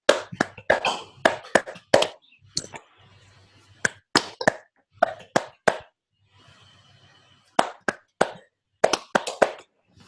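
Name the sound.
webinar participants clapping together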